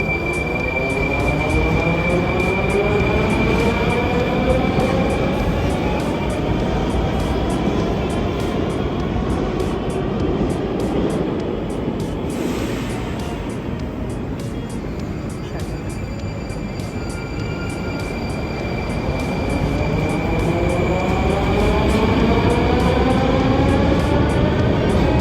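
A metro train runs at Kazan Kremlin station in Kazan, its wheels squealing along the rails in steady, loud rolling noise with a rising and falling whine, close by.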